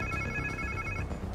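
A phone rings in the Spider-Man 2 video game, a short electronic ringtone with steady tonal trills, moderately loud over a low game background rumble.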